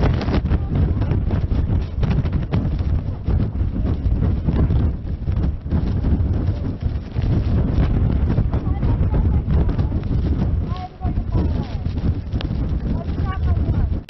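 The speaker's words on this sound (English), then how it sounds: "these gusts are really picking up" Strong, gusty wind buffets the microphone in a continuous low roar that surges and eases throughout.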